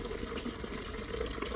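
Water runs steadily into a container for chickens on a poultry farm, a continuous close hiss and gush with no break, fairly even in loudness throughout.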